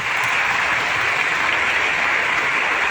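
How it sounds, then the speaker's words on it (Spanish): A church congregation applauds at a parish Mass, dense steady clapping from many hands filling the space evenly without a break. "quiero que le demos aplausos a los representantes y a los padres de los jóvenes de la parroquia"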